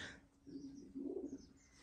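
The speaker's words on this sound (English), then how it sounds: "I can hear a pigeon." A pigeon in a large barn building coos twice in low, soft, rounded calls, faint and somewhat distant, with light ambient noise around it.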